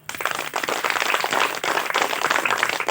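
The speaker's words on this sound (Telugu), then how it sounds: "గట్టిగా చప్పట్లు కొడదాం." An audience at a Telugu meditation talk claps loudly, a dense, continuous patter of many hands filling the room for a few seconds without pause.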